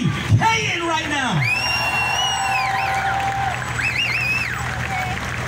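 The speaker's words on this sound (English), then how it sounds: "please give a big round of applause for Corey Caton right now." A crowd at a Black Lives Matter march in Brooklyn whoops, yells and cheers loudly and continuously, with shouting voices layered over the noisy outdoor crowd.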